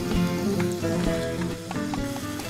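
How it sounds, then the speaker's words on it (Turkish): Mushrooms sizzle and crackle in a hot pan of butter, a steady frying hiss with occasional pops, close by and without talk. "Doğradığım mantarları eriyen tereyağının içine aktarıyorum."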